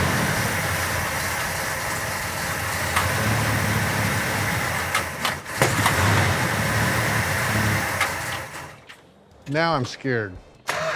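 An old 440 V8, left sitting for 40 years, cranks and runs with a rough continuous rumble, then cuts out abruptly; voices speak briefly afterward as it falls quiet.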